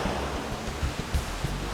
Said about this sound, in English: I'm on a hanging bridge right over a wonderfully fast-flowing river